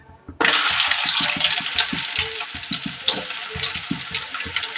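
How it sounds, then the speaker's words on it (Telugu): Onions sizzling loudly in hot oil in a pan, a sudden burst of frying that starts abruptly and then continues as a steady, dense crackle with faint rhythmic bumping underneath. "ఇప్పుడైతే ఆయిల్ అయితే కాగిందండి ఇప్పుడు వచ్చేసి ఉల్లిపాయలు అయితే వేసేసుకున్నాం"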